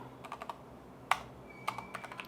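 Typing on a computer keyboard: a few quiet clusters of light key clicks, then one sharper louder keystroke, followed by another short group of taps, close and isolated with no talk.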